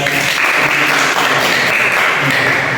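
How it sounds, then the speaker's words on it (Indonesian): Loud, dense applause from a class during an Islamic religious education lesson, a steady unbroken roar of many hands clapping at once. "tepuk tangan buat"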